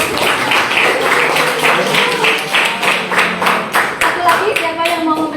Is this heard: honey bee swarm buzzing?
no